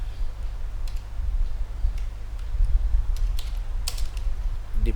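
Rapid, light clicks of a computer keyboard being typed on at a desk, in a steady uneven patter over a low electrical hum, with no talking.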